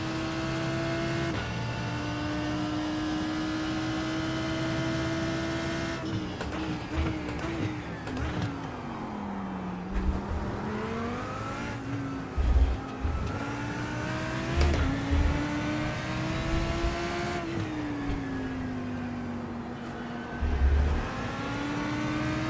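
A race car engine in the iRacing sim at Fuji drones continuously for over twenty seconds, its pitch climbing through gears and dropping on downshifts and braking, loud and near with brief bumps and rattles.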